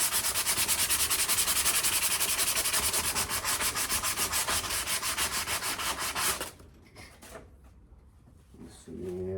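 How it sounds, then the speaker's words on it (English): An old axe head is hand sanded with sandpaper: loud, fast, rhythmic rubbing strokes run steadily for about six seconds, then stop and give way to quieter handling noises. "I'm just gonna rip my sandpaper and my glove."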